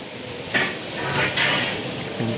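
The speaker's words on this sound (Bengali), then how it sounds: "আর এখানে কিন্তু আলু ভাজা হচ্ছে" Potatoes fry in two huge kadai pans in a large ashram kitchen, with a low background sizzle broken by a few metallic clanks and scrapes of utensils against the pans.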